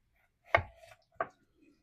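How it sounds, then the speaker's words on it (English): Onions cut fairly thick with a knife, two distinct close chops on a board separated by a short pause, with no talking. "Cutting some onions"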